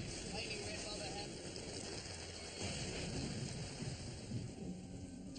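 Thunder rolls and rumbles in a steady, dense wash through a storm near Taku Inlet in Alaska, with rain and wind mixed in throughout.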